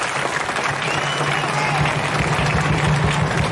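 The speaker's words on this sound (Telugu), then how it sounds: "చప్పట్లు కొట్టాలి." A rally audience breaks into sustained applause, with dense, steady clapping from many hands that fills the space evenly and stays loud throughout, with no voices over it.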